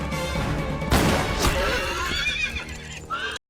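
A galloping horse gives a loud, shrill neigh as it is shot in a Western film scene, followed by a second whinny and fading scuffling sounds before an abrupt stop.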